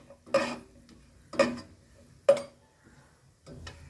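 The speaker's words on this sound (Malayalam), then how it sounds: "നമ്മളിപ്പോൾ കശുവണ്ടിട്ട് എല്ലാം ഇളക്കി കൊടുക്കുക പിന്നെ മുന്തിരി ഇട്ട് കൊടുക്കുക" Cashews and raisins are stirred in a pan for kaayi pola. Three distinct metallic scrapes and clinks of a spoon sound at an even pace, then a softer fourth, with quiet gaps between.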